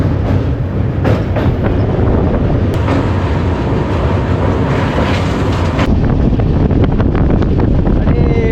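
A Garib Rath Express train runs past Kolaghat station, with a steady, loud rumble of wheels on rail and heavy wind buffeting throughout, a few sharp clanks cutting through the roar.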